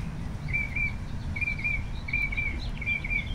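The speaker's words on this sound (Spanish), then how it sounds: "Y los pajaritos aquí, qué felicidad." Small birds sing outdoors on a hot morning, repeating short bright chirping phrases in a regular pattern, moderately distant over a constant low background rumble.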